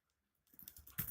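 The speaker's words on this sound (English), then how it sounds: "Let's type your username and password." Quick soft keystrokes on a computer keyboard as a username and password are entered, a brief patter of clicks after a moment of near silence; faint and close.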